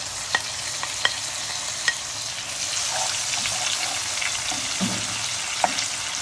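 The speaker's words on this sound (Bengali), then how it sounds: "মিডিয়াম ফ্লেমে ফ্রাই করব।" Onion, garlic and ginger paste fry in a pan over medium flame, a steady low sizzle with occasional sharp clicks of a spoon stirring against the metal.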